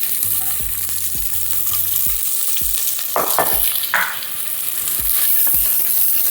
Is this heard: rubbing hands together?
no